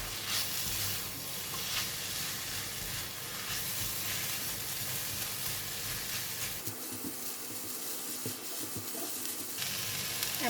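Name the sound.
stir-frying cabbage, chili and carrot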